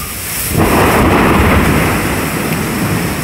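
Thunder rumbles loud and close during a tornado-spawning thunderstorm, a broad roaring swell that rises sharply and then rolls on steadily with rain-like hiss.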